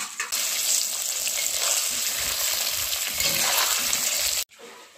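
Paneer fries lightly in a pan, giving a steady, close broadband sizzle with faint stirring clatter that runs continuously and then cuts off abruptly near the end; no talking.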